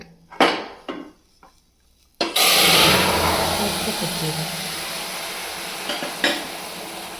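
Boiled mutton tipped into a pan of frying onions and curry leaves, a few clanks of the pan first, then a sudden loud, steady sizzle that slowly fades, with a couple of utensil knocks near the end.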